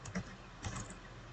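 Quiet keystrokes on a computer keyboard while entering JavaScript code, a couple of soft clicks over a low background hum.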